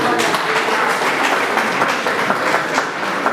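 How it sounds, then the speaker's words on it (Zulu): Audience applause at a municipal council meeting in Nquthu, a dense continuous patter of many hands clapping at steady loudness throughout, with faint voices mixed underneath. "Anishaye ihlombe ngezana imali engaka."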